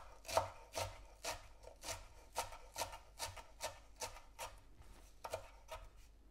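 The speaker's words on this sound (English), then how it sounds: "we are going to chop up our coriander or cilantro and our parsley" A knife chops coriander and parsley on a board in steady, evenly spaced strokes, about two per second. Each close, crisp thunk carries a brief scrape, and no one speaks.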